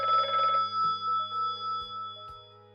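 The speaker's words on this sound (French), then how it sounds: "Le lendemain, le téléphone me réveilla." A telephone bell rings in a quiet room, an opening burst followed by several evenly spaced ringing pulses that gradually fade, heard alone with no voices.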